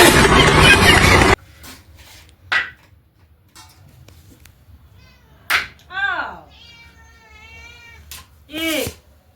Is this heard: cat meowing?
yes